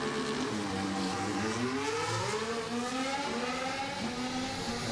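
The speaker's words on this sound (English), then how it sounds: "It didn't take long to get over 100 miles an hour, did it? Never does in a Formula 1 car." Formula 1 cars accelerating away from the race start, a dense roar of several engines with rising pitch sweeps as they pull away, continuous and loud with no voices.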